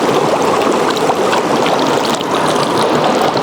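A clean mountain stream in Parkent flows and splashes steadily while meat is washed in it. The rushing water is loud, close and continuous, with no talk.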